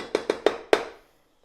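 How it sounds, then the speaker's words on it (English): A filled cake pan is dropped onto a kitchen counter to knock out air bubbles: four sharp, close thuds, the last coming after a slightly longer pause and then fading out. "give it a good drop like that, just to make sure I don't have any air bubbles in there."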